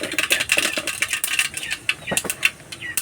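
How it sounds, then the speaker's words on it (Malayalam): Mustard seeds splutter and pop in hot oil in a pan: a quick irregular crackle of many small sharp pops, faint to moderate, with a few louder bursts. "കടുക് ഇട്ട് കൊടുക്കുവാണേ"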